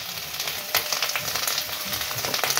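Potatoes fry in a pan on a stove at moderate heat, a steady crackling sizzle with dense popping spatters throughout, close and even.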